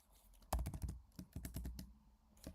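Fast, uneven typing on a computer keyboard at close range, a cluster of crisp key clicks with brief pauses and no talking.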